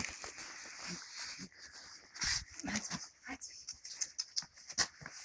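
A dog whimpers and whines in short, uneven bursts, close by, with soft panting and small movement noises between the cries.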